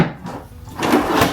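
A hidden drawer built from scrap wood slides open on its drawer slides, a brief rolling, scraping rumble of wood that grows louder toward the end.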